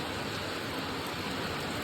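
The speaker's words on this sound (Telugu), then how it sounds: "ప్రస్తుతానికి అయితే కొంచెం భారీగానే వర్షం వచ్చేసి" Heavy rain pours down in Madanapalle, a dense, steady hiss that fills the short stretch without a break or any voices.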